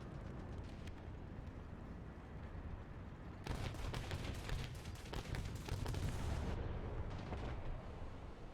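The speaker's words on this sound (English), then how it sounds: "I heard an AA fire, then I saw the flash of a main tank cannon." Anti-aircraft fire in a tank video game comes through as a quiet, steady rumble of distant gunfire. A denser burst of rapid crackling shots rises in the middle, then the rumble fades back to a low background roar.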